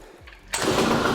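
An MBK 51 moped engine catches after a kick-start with the choke off, bursting from near silence into a loud, steady, buzzing idle that continues to the end.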